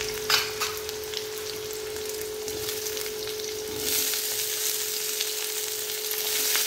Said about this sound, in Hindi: सारे सब्जियों को देख करके मैं तल लूंगी पहले।